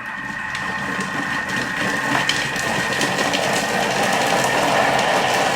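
A Thermomix TM6 runs at speed 5 on butter chicken ingredients, a steady whirring motor with chopping and churning in the bowl that builds slightly in loudness, with no talking.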